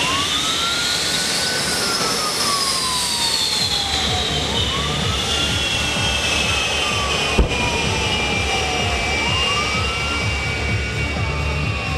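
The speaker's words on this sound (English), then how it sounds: "these are Rolls-Royce jet engines" A loud, continuous jet engine roar from a jet-powered truck with Rolls-Royce jet engines, a rising and falling high whine, sustained and close, with one sharp click partway through, at an airshow.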